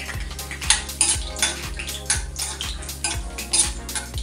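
Peanuts stirred in hot oil in a pan on lowered heat, a spatula scraping and clinking in a quick steady rhythm over a faint sizzle and a low repeating hum, close with no talk.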